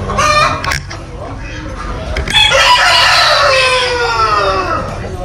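A rooster crows loudly and close at an agricultural show in Finn Valley, Ireland: one long, drawn-out call over the hubbub of a busy outdoor crowd.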